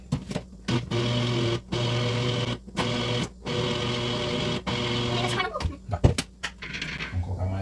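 Russian pancake batter of milk and flour being beaten in a bowl, with a steady whirring, churning drone broken by brief pauses, close and loud, as people talk over it.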